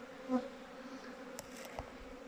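Honeybees buzz steadily nearby from a hive clustered in cold weather, a soft droning hum with a few brief clicks and knocks in the background.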